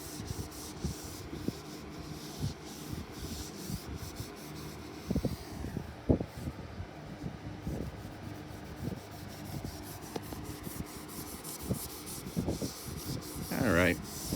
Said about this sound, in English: that's about 2 minutes worth of scrubbing